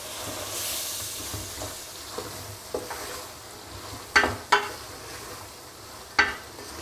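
Spiced chickpeas being stirred in a pan with amchur (dried mango) powder, a soft continuous sizzle broken by a few sharp scrapes and clinks of the spoon against the pan, with no talking.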